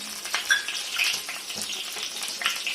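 Cumin seeds crackle and sizzle in hot oil in a pan for chole masala curry, a bright, steady frying hiss with scattered pops, close and moderately loud.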